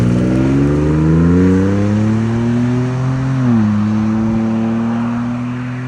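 A car engine revs loudly and close by, a strong droning tone that climbs, holds, dips sharply and settles again, steady and dominant with no talking.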